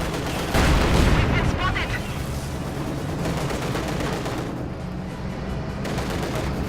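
Soviet T-35 tanks and German Panzers fire in a Company of Heroes 2 battle, with booming cannon shots and rattling gunfire followed by a steady roar of combat noise, under a commentator's voice.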